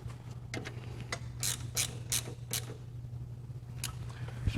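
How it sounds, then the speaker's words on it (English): Ratchet clicking as the distributor is tightened on a 1973 VW Super Beetle, several short bursts of pawl clicks close by over a steady low engine-bay hum, no talking. "Tighten the distributor."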